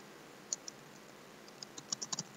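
Keys on a computer keyboard are typed in a quiet room, giving soft, close clicks. A few isolated taps come first, then a quicker cluster of keystrokes near the end.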